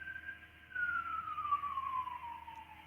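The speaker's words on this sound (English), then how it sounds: "Big day for sirens." An emergency siren passes outside, faint and distant, its single wailing tone sliding slowly downward as it moves past.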